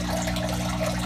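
Water being pumped out of a small home fish tank holding twenty or thirty marine cichlids, heard as a close, steady gurgle of flowing water over a low motor hum.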